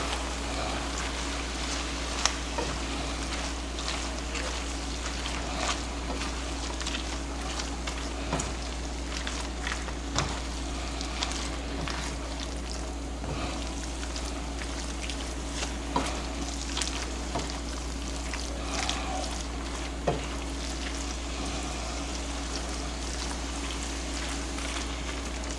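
Homemade Hamburger Helper frying in a pan, a steady soft sizzle running throughout with small scattered pops and occasional clinks of stirring, no voices.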